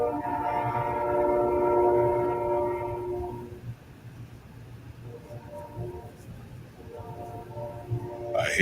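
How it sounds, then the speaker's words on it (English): A train approaching, its horn sounding a long, loud, sustained blast, then fading under a rumbling rail drone before the horn returns more faintly near the end. "I hear the train a coming."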